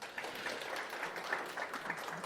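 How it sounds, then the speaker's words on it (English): Audience applause at a tech talk on system-wide ad blocking for Apple devices, a soft, distant, even patter of many hands clapping throughout. "A round of applause for Peter."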